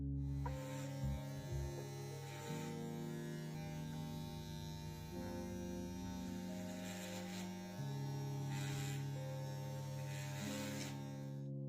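An electric hair clipper cuts hair with a steady, faint mechanical buzz that hums on without pause, alone and with no voices.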